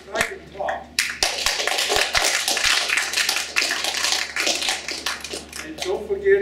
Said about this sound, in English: Let's give a warm round of applause to Dr. Greenspan for his very exciting talk.